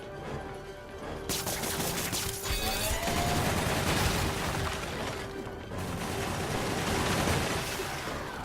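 Gunfire and turret shots in the video game Marvel's Spider-Man, with busy bursts of mechanical clatter, crashes and firing that run steadily for several seconds amid game noise, and no talk.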